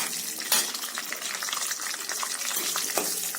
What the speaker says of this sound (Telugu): బాదం పప్పు సన్నగా కట్ చేసి వేసుకోండి, అప్పుడు పప్పు బాగా వేగుతుంది.